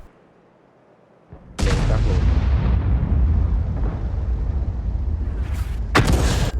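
A T92 HMC self-propelled artillery gun in World of Tanks fires one loud, booming shot that rumbles on for several seconds, followed by two sharp cracks near the end.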